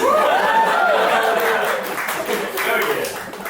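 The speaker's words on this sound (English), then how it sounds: "Applause break." A stand-up comedy audience claps and cheers in a sustained wave, with whoops and laughter riding over the applause before it eases slightly near the end.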